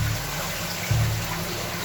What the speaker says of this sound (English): with water running the whole way